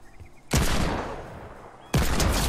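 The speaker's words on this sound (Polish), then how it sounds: "Dwa strzały celne." Gunfire in the video game Fortnite: two loud, sharp bursts, the first at about half a second decaying slowly into a long tail, the second near the end, with no talk over them.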